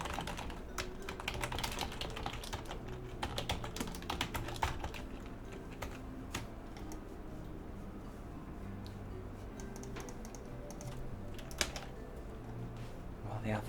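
Fast, uneven typing on a computer keyboard, a dense run of sharp clicks that carries on throughout, with faint background noise and no clear voice.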